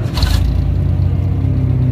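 A Datsun 1600 car engine starts up with a short, sharp burst of cranking and catching, then settles into a steady, rumbling idle close by.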